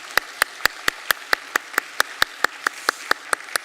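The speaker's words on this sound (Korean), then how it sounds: "우리 네 가정 박수로 환영하겠습니다." A church congregation at a Sunday service claps to welcome new families: sharp, evenly spaced claps in a steady unison rhythm, about sixteen beats in quick succession, with no talking over them.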